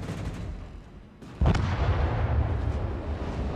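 Warship guns firing in World of Warships, naval combat game, with one heavy booming salvo near the middle that cuts sharply over a steady rumbling background of battle noise.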